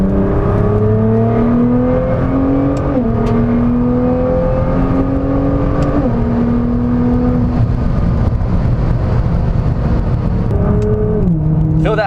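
A Nissan GT-R's twin-turbo engine accelerates under boost from inside the car, rising in pitch through the gears with a drop at each shift, loud and continuous.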